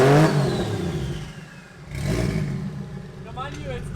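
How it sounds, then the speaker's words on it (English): Modified BMW E36 with a swapped Toyota 1JZ engine on an open downpipe and unfinished exhaust revs in two loud surges, with a rasping mechanical tone, and a short voice comes near the end. "I can rev it up a little bit for you guys."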